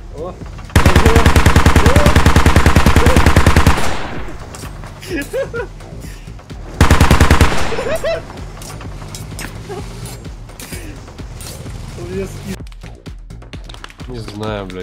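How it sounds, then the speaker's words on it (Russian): Automatic gunfire in the war game Squad, two long loud sustained bursts of rapid shots, close by, with people talking in between and over quieter distant shooting. "куда-то стреляют там"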